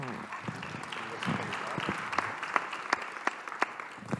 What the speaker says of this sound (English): Well, the applause is well deserved.